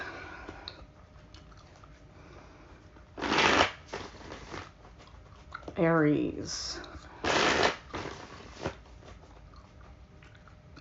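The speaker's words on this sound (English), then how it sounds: "I probably should have shuffled this a little bit better before coming on." Tarot cards are shuffled in short, crisp riffling bursts, three or four separate flurries of papery slapping across the stretch, with a voice speaking quietly at the start.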